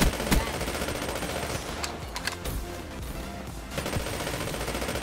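Rapid automatic gunfire in Black Ops 3 from a hard-recoiling weapon, a dense, loud, sustained stream of shots with a couple of brief gaps in the firing.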